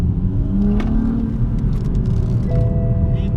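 A BMW 235i accelerating hard on the Spa race track, its engine note climbing in a continuous roar with a gear change midway, heard loud and close from inside the car with no talk.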